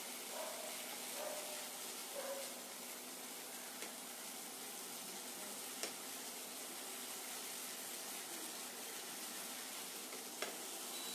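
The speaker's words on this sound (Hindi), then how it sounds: "अच्छे से हम इसे सौते करेंगे" Ingredients sauté in a pan on an induction cooktop, giving a soft, continuous sizzle with occasional faint stirring clicks and scrapes throughout.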